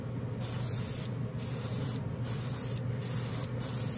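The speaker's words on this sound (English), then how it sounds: "This airbrush atomizes it so finely that it's not really pushing the paint to make it run." Airbrush spraying SMS color shift paint in a fine hissing mist, close and steady, broken by five brief gaps where the spray cuts off, with no talk.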